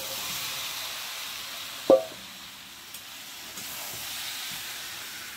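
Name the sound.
frying masala with potatoes and eggs in pan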